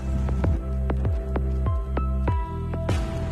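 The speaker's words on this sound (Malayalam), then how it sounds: "ഞാൻ ഈ ഒരു കപ്പിൽ ശർക്കര വെള്ളമാണ് ആഡ് ചെയ്തിരിക്കുന്നത്" Jaggery water poured from a cup into a Konkani-style sweet banana curry, giving a run of wet drips and squishy plops that slow and thin out, close up, with no talk.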